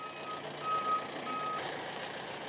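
A truck backs up with a steady electronic reversing beep, two long tones repeating over a low engine rumble and outdoor ambience, no talking.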